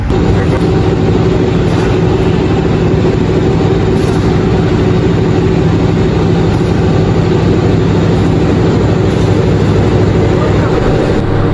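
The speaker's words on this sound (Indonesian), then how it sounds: "kereta api Jayabaya masuk di jalur 4 stasiun Cirebon Kejaksan" The Jayabaya passenger train pulls into track 4 at Cirebon Kejaksan station, a loud, continuous low rumble of engine and rolling wagons that holds steady throughout.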